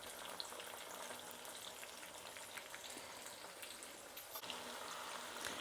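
Field bean seeds frying in oil for a crunchy mixture snack, a steady dense sizzle and crackle running unbroken throughout with occasional sharper pops, close and alone without talk.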